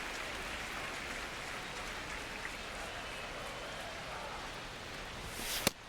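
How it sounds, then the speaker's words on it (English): Steady rain falls over a baseball game in MLB The Show 26, Houston Astros versus Boston Red Sox, a continuous hiss of rainfall with a brief sharp click near the end. "It feels like we might be headed towards a rain delay if the weather doesn't ease up"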